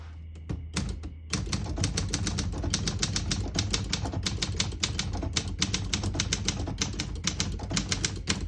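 A 1974 Olympia SM-9 vintage portable typewriter types in the red ribbon setting: a brisk, close run of sharp key strikes and clacks in an uneven rhythm, starting after a few isolated taps, with no voices.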